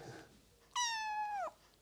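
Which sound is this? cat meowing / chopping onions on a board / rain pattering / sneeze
cat meowing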